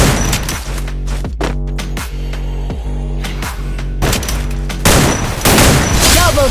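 Rapid M590 shotgun blasts ring out in a mobile shooter game during a fight with an enemy, loud repeated booms with humming tonal decays, backed by game effects and a busier burst near the end.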